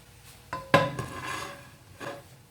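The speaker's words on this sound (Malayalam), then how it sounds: "പാൻ അടുപ്പത്ത് വെച്ചു" A metal pan is set down on a stove for a breadfruit stir-fry, giving a couple of close clanks followed by a ringing scrape and a lighter knock a moment later in a quiet kitchen.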